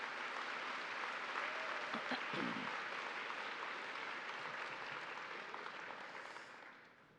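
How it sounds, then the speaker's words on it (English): Audience at a Harvard Varsity Club senior letterwinners' dinner breaking into sustained applause, a dense, even roar of clapping that slowly fades toward the end. "can we give them a round of applause?"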